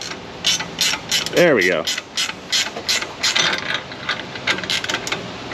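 A ratchet wrench turns a rusted bolt on a Chevrolet Silverado 5.3 with busted springs, giving a close series of rapid clicking bursts in quick rhythm, with a brief spoken remark partway through.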